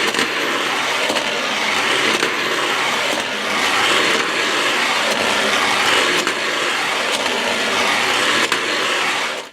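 O gauge model trains rolling along track, a steady loud whirring motor hum with rhythmic clicking over rail joints, continuous and close.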